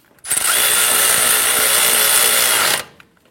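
A power tool spins steadily for about two and a half seconds, snugging down two 10mm bolts that hold a bracket to a vehicle's steering knuckle. The whine is loud and close, with no talking.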